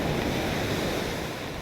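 Sea waves washing right up to the feet of an angler fishing from a UK shore, a continuous loud roar of surf mixed with wind buffeting the microphone, with no talking.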